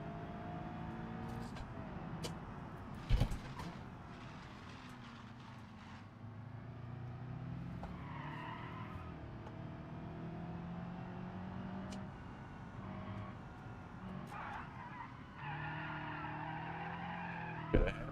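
Tires skid and squeal as a car makes a handbrake turn in the BeamNG driving game, drawn-out screeches rising over a steady engine drone, with a couple of sharp knocks.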